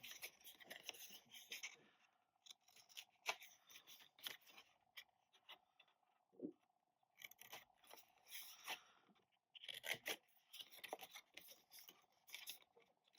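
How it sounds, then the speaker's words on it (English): Scissors snip through paper tab dividers along score lines, a run of close, quiet crisp cutting strokes in irregular clusters with brief pauses between them, no speech. "So I'm going to cut tab dividers like this"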